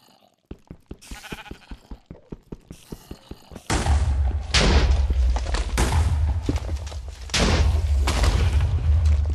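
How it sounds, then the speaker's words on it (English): Explosions in the game Minecraft: a quick run of sharp popping bursts gives way to a heavy, continuous roar of booming explosions that stays loud to the end. "Is that you causing the explosions?"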